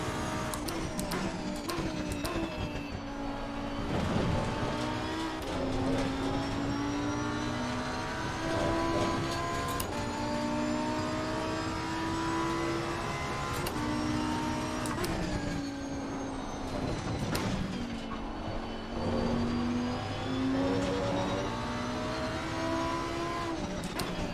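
Ferrari race car engine in a racing video game played on Xbox Series X, a continuous high-revving whine rising and falling through gear changes, with other cars close by, loud and steady throughout.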